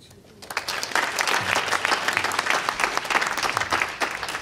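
Conference audience applause starts abruptly after a short quiet moment and continues as a dense, steady wash of clapping.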